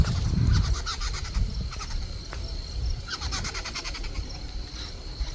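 Birds calling outdoors near a millet field, with faint, scattered chirps and calls over a low rumble of wind and ambient noise, no talk.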